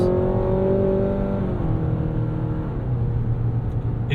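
A 2023 Mazda CX-90 plug-in hybrid's engine pulls hard in sport mode, a loud, steady droning roar with rising and falling pitch heard from inside the cabin, easing off toward the end.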